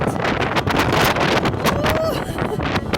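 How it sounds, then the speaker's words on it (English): Strong wind buffets the microphone in continuous loud gusts, a rough roaring rush with brief fluttering bursts throughout. "it's super windy again"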